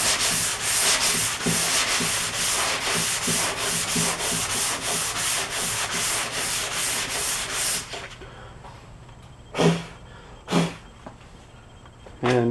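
Body filler on a car body panel is hand sanded in crisscross strokes that follow the panel's shape, making a close, rhythmic scratchy rasp of quick repeated passes, then two separate single strokes after a pause.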